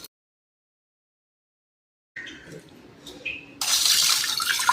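After a silent start and some soft handling clatter, water starts pouring steadily and fairly loud close by onto tamarind and salt to soak, continuing to the end.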